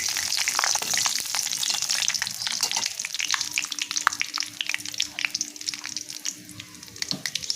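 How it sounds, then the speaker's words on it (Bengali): Whole spices, two pieces of cinnamon and five or six cardamom pods with bay leaves, frying in hot oil in a pan, giving a steady close sizzle with crackling pops throughout, no talk. "মশলাটাকে একটুক্ষণ গরম করে নিচ্ছি।"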